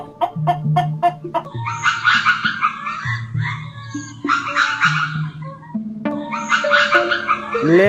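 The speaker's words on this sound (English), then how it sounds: "hen and rooster" Hen and rooster on a farm, with repeated clucking and crowing calls over a steady melodic music bed; the bird calls come in bursts and are fairly loud.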